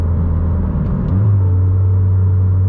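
A manual-transmission car engine drones steadily after a downshift into fifth gear, a loud low hum that settles into an even, sustained pitch about a second in, heard from inside the cabin with no talking.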